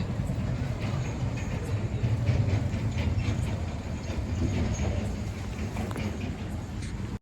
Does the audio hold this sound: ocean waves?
no